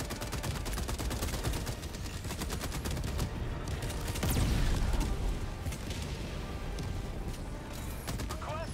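Dense, continuous gunfire and bombardment in a combat video game fighting a factory strider, with rapid volleys and a heavier rumbling blast near the middle, loud and sustained throughout.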